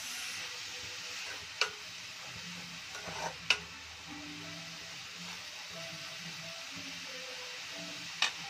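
Onions sautéing in a pan, a faint steady sizzle with a few sharp utensil clicks scattered through, close and quiet with no speech.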